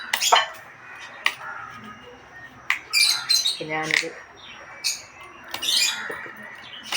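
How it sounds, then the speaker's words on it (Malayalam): Birds squawk and cry in sharp, scattered bursts, some loud and near, with a few short chirps between them, while a person speaks briefly. "കിളികൾ ഭയങ്കര ബഹളം"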